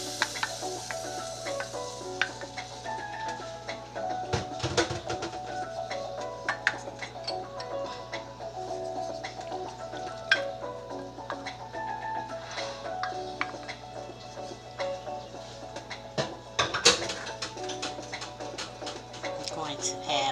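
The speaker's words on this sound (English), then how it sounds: "I'm going to add my beans." Beans go into a saucepan for baked beans with ground meat and get stirred, giving soft scraping and sizzling kitchen clatter with scattered clicks and clunks over a steady background hum.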